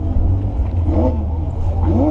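A Honda Civic engine revs close by at an open-house car event. It gives a loud, deep rumble with rising whooshes as the throttle climbs, and voices are faintly mixed in.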